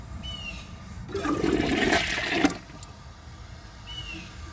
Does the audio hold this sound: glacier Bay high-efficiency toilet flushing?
yes